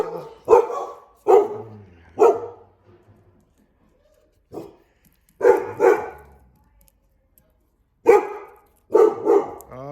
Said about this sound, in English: So you're gonna survive the dogs barking.